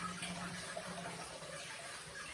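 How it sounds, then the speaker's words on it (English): A spatula is washed under a running kitchen tap, making a steady, close rush of water that flows without a break for a short moment. "now what I need to do is quickly give my spatula a wash"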